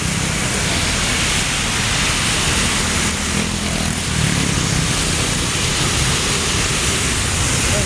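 The swollen Pasig River in the Taguig area roars with rushing floodwater after Typhoon Enteng, a loud, dense, unbroken wash of noise that fills the whole stretch with no voices.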